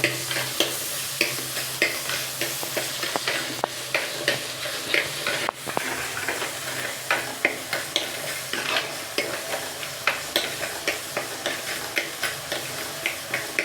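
Fresh green curry leaves sizzle and crackle in hot oil in a pan, with a steady frying hiss and rhythmic scraping strokes of a spatula stirring them close up.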